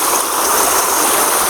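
Water rushes along an irrigation canal in a continuous, close, broadband stream with no pauses and no voices.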